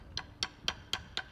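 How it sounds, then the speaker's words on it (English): Five crisp, evenly spaced clicks of a stick striking a marching snare drum rim, sharp and dry with a steady rhythm. "They play on the rim, which kind of sounds like this."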